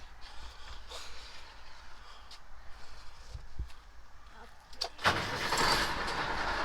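A pull truck at a truck show cranks over and fires up, a short starter whir followed by the engine catching and settling into a loud, rough rumble after a stretch of quieter background noise.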